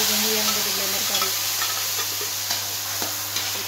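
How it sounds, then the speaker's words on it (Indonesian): Blended chili spice paste for spicy sambal tofu goes into hot oil in a home kitchen, making a steady, continuous sizzle with light clicks of stirring and a constant low hum behind it. "setelah minyak panas kita masukkan bumbu-bumbu yang dari blender tadi"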